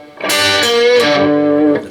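A distorted electric guitar plays a short lick, with a quarter-step bend ringing into a sustained note, close and loud for about two seconds.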